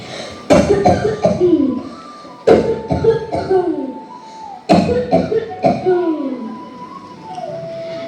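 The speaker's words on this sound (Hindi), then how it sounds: "फिर से खांसी" Three bursts of harsh, wet coughing, each a rapid cluster of hacks trailing into wheezy breaths, loud and close with short pauses between.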